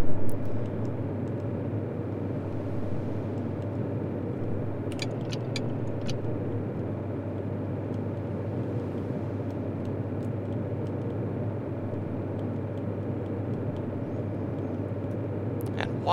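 Truck engine in Farming Simulator 2013 running at high speed in its top gear, a steady droning hum with a few brief clicks layered over it, loud and continuous throughout.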